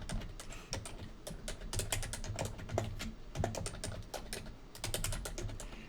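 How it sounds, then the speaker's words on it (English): Fingers type on a computer keyboard in quick, uneven bursts of close, crisp key clicks with brief pauses between words. "And inside of here, I'm going to type a substring."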